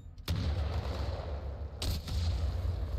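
Gunfire in the video game Titanfall 2, a loud sustained burst of shots with heavy low rumble, a second sharp volley breaking in near the end.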